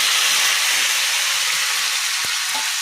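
Garlic and tempering spices sizzling in hot oil in a pan, a loud steady frying hiss that holds throughout, with a couple of brief clicks near the end.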